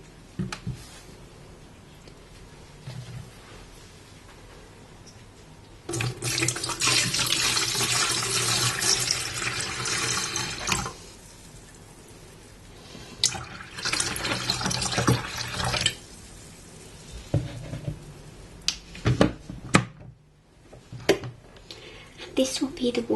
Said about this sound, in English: we're going to refill the kettle